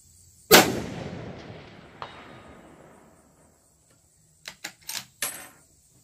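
Rifle fire at a 400-yard range: one sharp, loud shot with a long rolling echo, a fainter crack soon after, then a quick cluster of four short bangs near the end.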